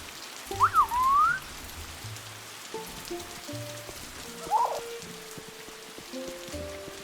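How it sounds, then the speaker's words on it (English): Steady rain in the video game Luma Island patters continuously at moderate volume, with soft whistling tones and game-like notes drifting over it. "the rain in this game is loud. Like, it's loud rain."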